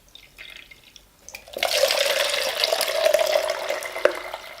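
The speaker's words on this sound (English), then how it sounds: "this is of course a very thorough rinsing because that's basically the last typical chemical that's gonna hit the film" Running water rinses developed color slide film, starting with faint drips, then a steady, close, loud stream of tap water pouring and splashing continuously.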